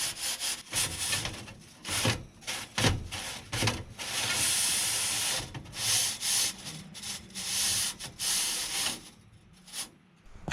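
A chimney-sweeping brush scrapes inside a wood-burning stove's chimney in a series of short, rasping strokes, a few passes per spot, with near, steady scratchy bursts and no talking.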